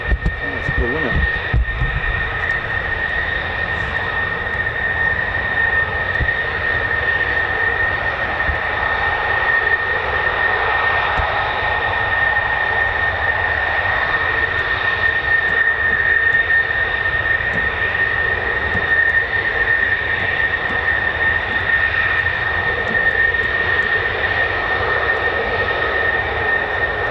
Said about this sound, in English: That's F-16s there.